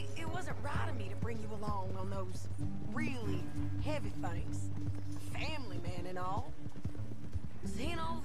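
Horses in Red Dead Redemption 2 trot with clear repeated clip-clop hoofbeats, and a neigh rises among them. The hooves run under game music and dialogue, with people talking over the action.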